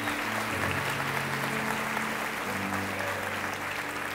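A church congregation applauds together in steady, dense clapping that fills the room from start to end, with no gap and no voices on top.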